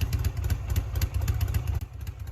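A 1967-era Norton Commando British superbike engine runs with a fast, pulsing, slightly clattery idle or low rev, close and steady throughout the short stretch.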